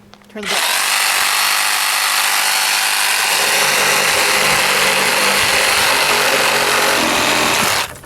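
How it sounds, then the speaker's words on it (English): Battery-operated saw cutting through a charred tree on an off-road trail in the Colorado Rocky Mountains, a loud, steady high-pitched whine that starts abruptly and runs continuously for about seven seconds before stopping. "Having an axe or even a battery-operated saw can be key when wheeling the trails in these charred mountains."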